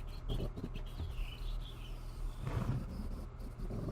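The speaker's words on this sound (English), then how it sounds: "I hear birds." Faint bird chirps and thin calls come and go over a low hum and steady background noise, distant and soft.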